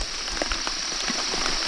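Steady rain patters on a surface nearby, a dense, even hiss broken by scattered louder drops, with no voices.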